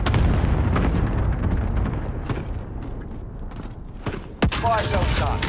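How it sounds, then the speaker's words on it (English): Rolling cluster-strike airstrike explosions in Call of Duty: Modern Warfare, a dense fusillade of booms and crackling bursts throughout, with one sharp louder blast near the end. "Cluster strike away."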